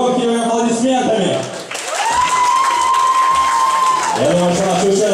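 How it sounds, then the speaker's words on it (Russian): A studio audience claps and cheers for female contestants in a loud continuous burst, with a bright musical tone sustained above the crowd. "давайте поприветствуем наших участниц громкими аплодисментами"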